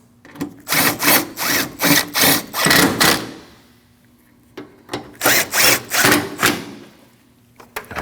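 Ratcheting bursts from tightening the 10mm headlight bolts on a 2003-2008 Subaru Forester, two close, loud runs of rapid clicking separated by a pause.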